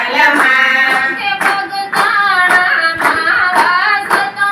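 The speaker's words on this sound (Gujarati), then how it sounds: "તાળી પાડો તાલ માँ।" Hands clap in a steady, regular rhythm beneath loud devotional singing of a Gujarati Hanuman bhajan, the claps falling evenly and close alongside the melody.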